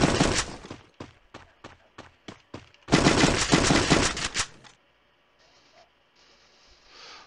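Rapid automatic gunfire in Free Fire on PC: a long sustained burst, a string of short bursts, then another long burst, followed by quiet electronic hum.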